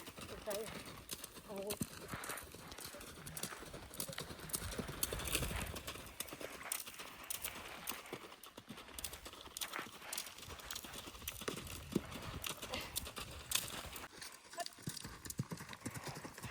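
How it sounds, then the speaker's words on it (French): A pony trots through a riding session, its hoof clip-clops running continuously beneath near-constant talking, with faint background noise and no pauses. "Là, on a un poney juste."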